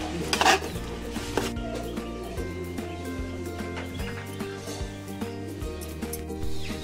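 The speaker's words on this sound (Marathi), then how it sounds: "चांगलं परतवून घेऊया पुन्हा एकदा" Mango raita masala being stirred and sautéed in oil in a pan, with repeated metallic scrapes and clinks of a spoon against the pan, a sharper clatter near the start and a steady busy texture throughout.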